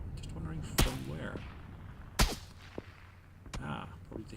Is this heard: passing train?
no